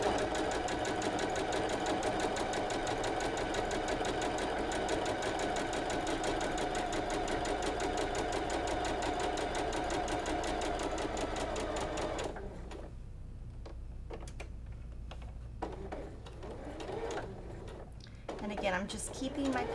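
A sewing machine stitches a quilt block in a rapid, steady mechanical chatter for about twelve seconds, then stops, leaving quieter handling noises and a voice talking in the room.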